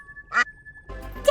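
A cartoon duck quack rings out as a single bright burst near the start, then a second, louder one at the end after a stretch of muffled shuffling noise; no talking.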